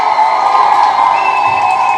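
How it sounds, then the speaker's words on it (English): A live audience breaks into sustained applause and cheering at a talk-show taping, a steady dense crowd roar with whoops at a constant loud level throughout. "let's give Kamala Harris a round of applause for getting Bret Baier to apologize"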